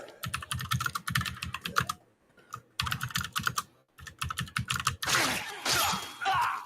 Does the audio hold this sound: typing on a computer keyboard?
yes